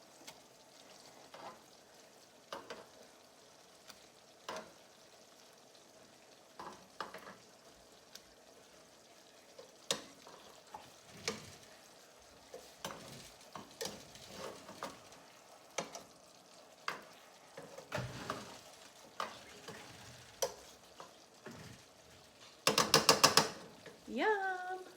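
Fried chicken slider pieces tossed and coated in a bowl make scattered soft clatters and scrapes, close but quiet, ending with a brief cluster of louder clicks.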